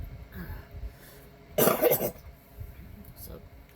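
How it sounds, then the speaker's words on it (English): A woman still getting over a painful illness lets out one short, harsh cough in the middle of quiet speech and faint breathing. "so I'm sorry if I cough."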